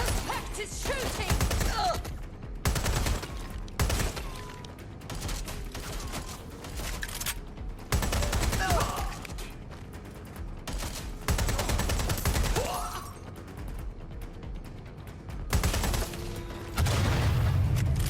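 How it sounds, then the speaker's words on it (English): Heavy bursts of gunfire in Watch Dogs Legion, rapid overlapping shots in dense volleys with booming low end, loud and sustained through the whole stretch with brief lulls. "Suspect is shooting."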